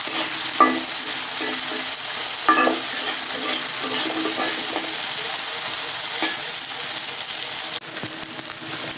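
Soybean chunks frying and being stirred in a pan for a curry, with a loud continuous sizzle, scraping stirring strokes at intervals, and a sudden drop in level near the end.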